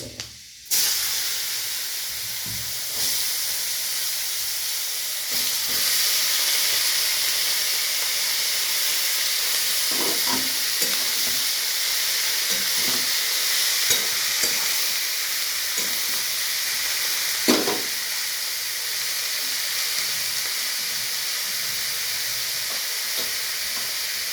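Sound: bottle gourd frying in oil with fenugreek tempering

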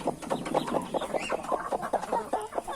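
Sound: hen clucking

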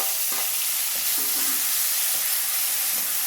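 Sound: onions sautéing in oil with tomato and green chillies

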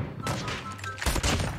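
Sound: sniper rifle shots in Call of Duty video game

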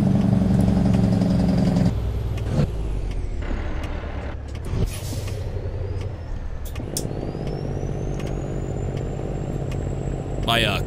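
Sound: chipped N14 600 truck engine, American Truck Simulator video game

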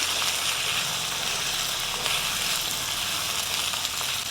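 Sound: broad beans frying in a pan with spices

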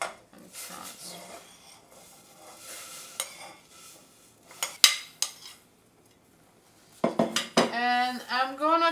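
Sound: spoon transferring cauliflower rice into a pot

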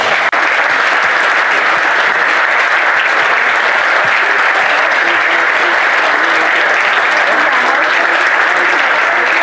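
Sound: loud applause for volunteers at reception

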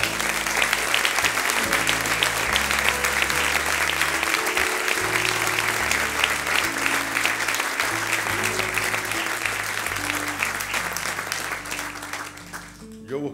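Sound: audience applause

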